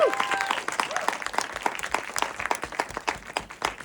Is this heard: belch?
no